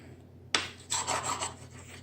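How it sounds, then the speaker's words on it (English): A spoon rubs raw egg onto a surface, a short scraping rasp that starts abruptly and repeats in a few quick close strokes. "I'm going to take this raw egg, and I'm going to just rub my raw egg spoon in each"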